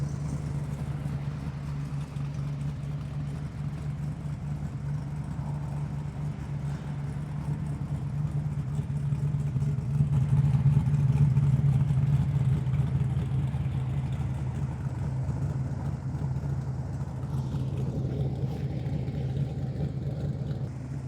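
A 1970 Chevrolet Camaro's small-block 350 V8 with dual exhaust idles steadily with a deep, throaty rumble, rising slightly in the middle before settling again, with no voices.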